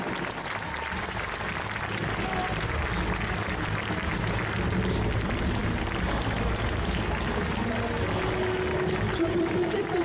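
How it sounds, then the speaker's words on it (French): Sustained audience applause fills a hall at a Saturday cosplay and costume contest at the Yggdrasil Indoor 2022 convention, steady and dense throughout with a faint voice underneath. "On va applaudir très fort."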